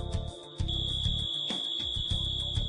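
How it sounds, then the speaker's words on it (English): A fire suppression system alarm sounds a steady high-pitched electronic tone before an FM200 discharge countdown, loud and continuous over a low background rumble and clatter. "The system sounds a second alarm and begins a 30-second pre-discharge countdown."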